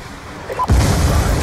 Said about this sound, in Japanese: あら、大爆発したね